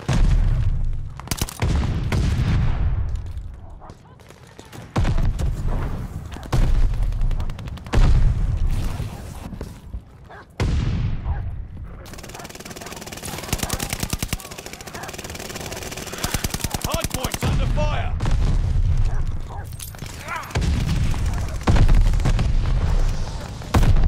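Call of Duty: Vanguard hardpoint match on the Tuscan map, loud rapid automatic gunfire and heavy booming explosions in repeated bursts, with a long sustained rattle of fire midway and game voices faintly underneath.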